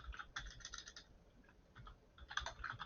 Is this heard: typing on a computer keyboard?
yes